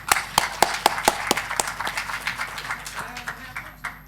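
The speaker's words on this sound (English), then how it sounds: "let us have a round of applause for all the panelists and the innovators and the audience here" Audience applause for panelists and innovators at a social innovation conference session, heard as a few distinct sharp claps at first that blend into a thinner patter of clapping, with voices faintly present beneath.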